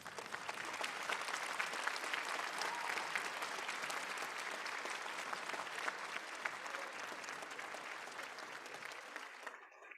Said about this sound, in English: Seniors, please stand and give your families, faculty, and guests a round of applause.